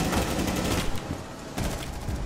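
Rapid automatic gunfire in Rainbow Six Siege, a dense, continuous rattling burst shot through a wall, loud and close, filling the moment with sustained crackling fire and only a slight break partway through.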